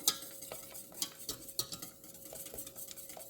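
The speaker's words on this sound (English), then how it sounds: "I'm going to whisk it just a little bit" A whisk scrapes and clinks steadily against a pot as a lemon filling mixture for meringue pie is stirred off the heat, quick close metallic taps over soft swishing.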